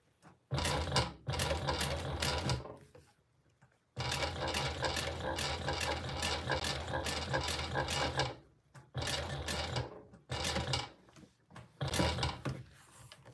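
Sewing machine stitching a Rosie sling, running in several long bursts of rapid rhythmic needle chatter separated by brief pauses, close and steady, with no speech.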